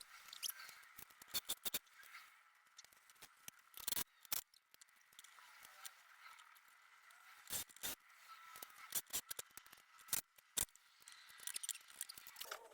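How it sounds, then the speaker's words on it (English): Pieces of XPS foam are cut, quiet irregular bursts of crisp snipping and scraping with short pauses between them. "So now I'm cutting out a couple of pieces of XPS foam"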